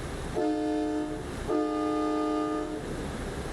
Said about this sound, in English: it sounds more like a train horn, doesn't it, when you do the 2 together?